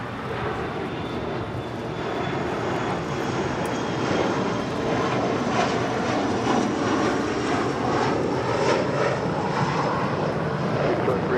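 Boeing 787 Dreamliner coming in to land at LAX from Tokyo Haneda, a steady, loud engine roar that holds and swells slightly across the whole stretch, with no talk over it.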